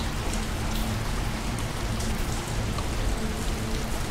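Hard rain pours down in the Splatter Blood Red Edition video game, a dense, constant hiss of heavy drops that stays loud and even throughout with no voices.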